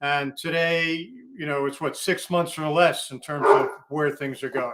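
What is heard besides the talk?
dog barking in the background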